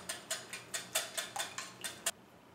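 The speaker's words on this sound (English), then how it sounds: "And then you're just going to whisk this mixture up." A whisk beating an egg mixture with pepper in a bowl, about ten quick, light rhythmic clinks, close and fairly quiet, stopping abruptly.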